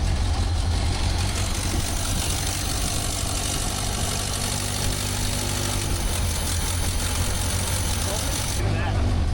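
A 1929 Ford Roadster engine idles steadily just after start-up, a loud, continuous low rumble with a rough mechanical chatter that holds through the whole stretch with no talk over it.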